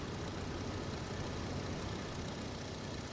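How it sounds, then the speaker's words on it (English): Continuous broad engine roar of an airplane passing overhead in Farming Simulator 25, loud and steady throughout with no change in level. "There goes the plane."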